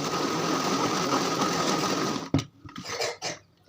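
An electric chopper whirs loudly and continuously while chopping green chillies, then stops with a few brief clatters and bumps.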